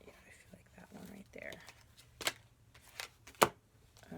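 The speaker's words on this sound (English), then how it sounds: "We're going to shuffle a little bit more." Tarot cards are shuffled in short papery riffles and bursts, with sharp snaps near the end, close and quiet; a low voice speaks softly in the first half.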